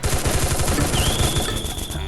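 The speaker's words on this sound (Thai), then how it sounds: "นี่ยิงกันอยู่ใช่ไหมสองคนนี้" Two players trade rapid automatic gunfire in a video game, dense bursts of shots rattling continuously at close range with game sounds layered over them.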